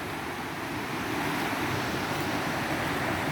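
A mountain waterfall near San Joaquin, Ecuador, gives a steady, unbroken rushing roar at moderate distance, with no voices.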